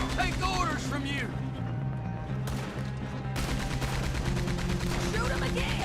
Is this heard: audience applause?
no